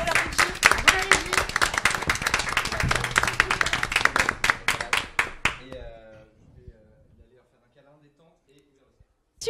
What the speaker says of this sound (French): on peut applaudir peut-être